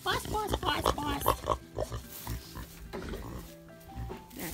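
A farm pig grunts and oinks close by in snowy winter conditions, in a run of short, rough snorts while a person talks over it.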